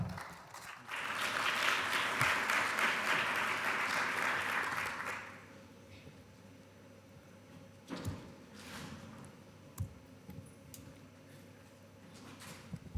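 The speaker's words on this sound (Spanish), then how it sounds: "un aplauso para él, por favor" A conference audience claps for a speaker at a risk-based compliance session, a dense burst of applause lasting several seconds before fading into room quiet with a few scattered knocks and shuffles.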